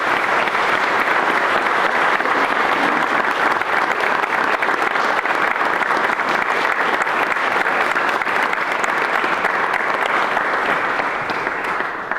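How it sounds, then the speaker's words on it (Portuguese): A congregation at a memorial Mass in a church gives the parish committee a long, loud burst of dense applause that holds steady for over ten seconds before easing slightly at the end. "atrevo-me a pedir uma salva de palmas para a nossa Comissão da Igreja"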